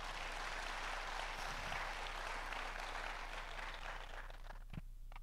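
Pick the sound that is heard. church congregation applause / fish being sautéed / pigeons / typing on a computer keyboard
church congregation applause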